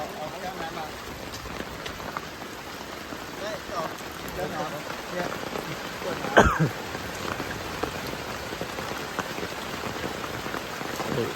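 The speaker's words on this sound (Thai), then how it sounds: "ฝนตกหนักนะครับ" Steady heavy rain pours down on a deep-forest camp throughout the night, a dense hiss with brief louder splashes and faint voices underneath.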